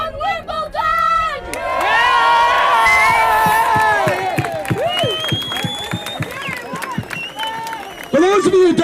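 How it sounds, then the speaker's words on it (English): A large crowd at a Scotland march for Europe erupts in loud cheering, whoops and shouts over Andy Murray winning Wimbledon, sustained and close, with people talking and calling out through the noise. "For those of you who don't know why we're cheering, Andy Murray just won Wimbledon"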